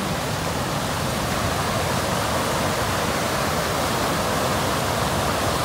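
A river swollen after three days of rain rushes past in a dense, steady roar, loud and close, with no voices.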